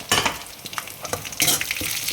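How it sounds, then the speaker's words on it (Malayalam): Mustard seeds pop and splutter in hot oil in a home kitchen while a Kerala erussery of raw papaya and green gram is cooked, a loud, dense crackling with irregular bursts of sharp pops and no talk. "ഇനി നമ്മൾ കടുക് പൊട്ടിക്കുകയാണ്."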